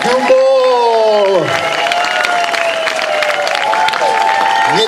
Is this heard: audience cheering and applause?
yes